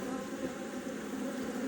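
Honeybees buzz around hive frames during an inspection with a smoker, a dense, continuous drone that sounds close and steady throughout.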